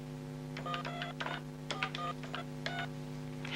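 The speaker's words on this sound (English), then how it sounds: "Dial the first phone number you would like to program into memory." Touch-tone DTMF dialing of a phone number on a 1990s TA2000 security alarm telephone during memory programming: a quick series of distinct beeping key tones in irregular bursts over a steady hum, close and clear with no talking.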